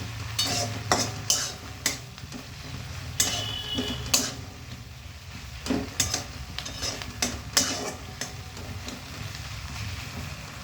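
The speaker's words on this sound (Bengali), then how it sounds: "এবার পেঁয়াজ কলির সঙ্গে এই সর্ষে বাটাটাকে ভালোভাবে আমি মিশিয়ে নিচ্ছি।" Mustard paste and spring onion stalks are mixed in a pan for a spicy katla fish dish, with a soft, steady sizzle broken by repeated scraping strokes and light clinks of a utensil against the pan.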